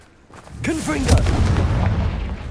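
A Confringo fire spell blasting in the Hogwarts Legacy video game, a loud booming burst with a sustained fiery roar that follows a shouted voice.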